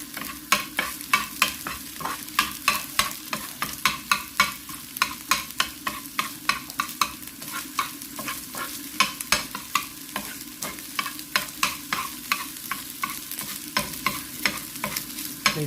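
Scrambled egg for a kebab mixture being stirred and fried dry in a pan, with a steady run of sharp spatula scrapes and clicks over a low sizzle, close and alone.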